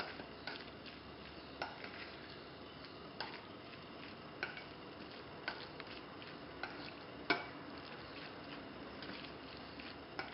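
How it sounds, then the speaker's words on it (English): Mashed avocado sandwich filling with salt is stirred in a bowl, a quiet scraping and mixing with small irregular clicks and taps of a utensil against the dish, low and close with no talking. "Mix it well."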